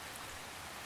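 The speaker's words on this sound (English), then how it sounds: "It was raining a steady drizzle that turned the lot into a slick black mirror" Steady drizzling rain hisses evenly as a soft, constant wash of fine drops, faint and unbroken, with no voices.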